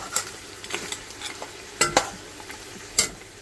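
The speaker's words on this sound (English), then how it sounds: "So I'm frying it around for a few minutes so the curry can get burned." Jamaican curry goat fries in oil with a soft, steady sizzle, broken by sharp scraping knocks of a spoon stirring against the pot, close and without talk.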